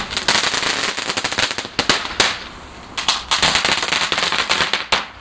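Bonfire Night fireworks crackle and pop in rapid dense bursts, loud and close, like strings of firecrackers, with short pauses between volleys and no voices over them.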